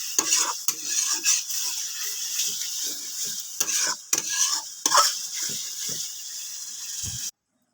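Chopped tomato and spices are stir-fried in a pan, a soft sizzle broken by repeated spatula scrapes and clinks against the metal, rhythmic and close, stopping suddenly near the end.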